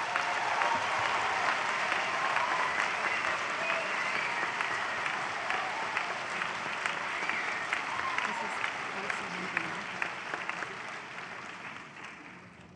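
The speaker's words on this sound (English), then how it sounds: "I'm sure many of you want to give a round of applause to your special graduate" Broad, sustained applause from a large audience greets graduates at a spring university convocation, steady clapping that slowly tapers off, with murmuring voices faintly underneath.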